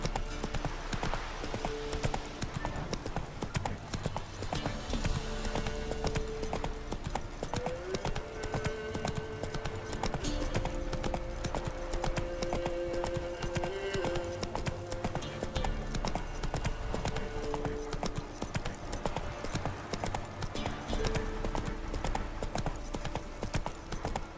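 Roach, Geralt's horse in The Witcher 3: Wild Hunt, galloping with rapid rhythmic hoof clops that run steadily throughout, set under a sustained musical score and ambient game sound.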